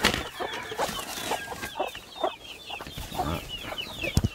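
Chickens cluck busily around a grass-lined nest, with close, repeated short calls and a few sharper squawks overlapping in an uneven rhythm.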